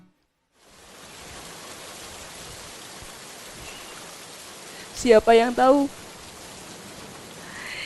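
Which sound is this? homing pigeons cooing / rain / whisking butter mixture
rain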